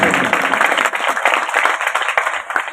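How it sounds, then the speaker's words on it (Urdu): An audience at a real estate agents' association address in Islamabad claps steadily, a dense run of applause from a moderate crowd, loud and close, with no talking over it. "ذرا تھوڑی سی تالیاں ہونی چاہیے"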